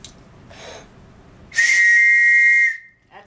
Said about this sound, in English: Metropolitan Police Whistle. A British police whistle.